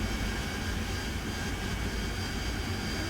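Jet engine of an AV-8B Harrier in the flight simulator DCS World, a steady, even whine and roar that holds at moderate level without change.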